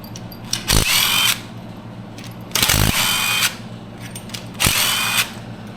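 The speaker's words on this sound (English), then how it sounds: "time to take off 1 million 10mm bolts" A power tool whirs in three short bursts with pauses between them as it removes 10mm bolts from an ATV engine case, close up and loud.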